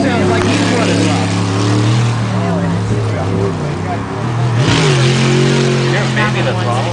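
A jet sprint boat engine running rough during a race in Oregon, a loud, near, wavering motor roar with uneven pitch sweeps and revving, heard under talk.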